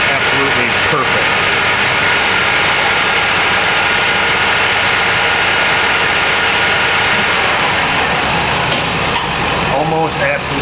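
Engine of a 2007 Chevy Silverado 1500 held at about 2000 RPM, a loud, steady, close running drone that continues throughout with a voice talking over it.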